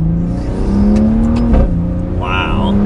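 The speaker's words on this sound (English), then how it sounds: "I guess we'll test out some acceleration just to feel out the twin turbo." A 2021 Maserati Levante S Q4 with a twin-turbo engine accelerates on a road, its steady engine drone rising in pitch and revving throughout, heard loud and close from inside the car, with a voice briefly over it.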